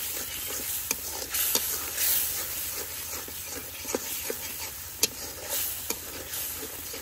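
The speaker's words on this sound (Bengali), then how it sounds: "মশলাটারে ভালো করে কষে নেই।" Spice paste of turmeric, chili, coriander, salt and cumin paste fries in a pan, giving a steady close sizzle and hiss. Sharp scrapes and clicks from stirring land every second or so, with no talking.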